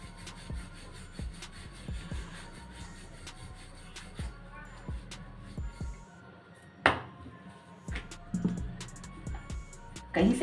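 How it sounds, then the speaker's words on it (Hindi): A rolling pin works carrot paratha dough on a board, making a regular series of soft knocks and rubbing strokes about every half second, fairly close, with a sharper clatter near the middle. "हल्के हाथ से इसे हम बेल लेंगे"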